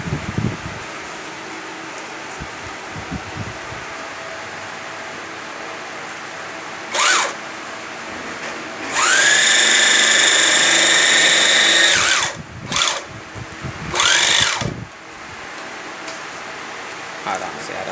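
A Rambo double-needle, double-thread portable bag closer sewing machine stitching fabric: several short motor bursts, then a long, loud whining run of about three seconds, then more short bursts, with people talking nearby between runs.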